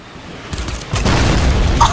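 A Fortnite explosion goes off, a loud, rumbling boom that swells and carries on for about a second with crackling bursts mixed in, coming after a quieter lead-in.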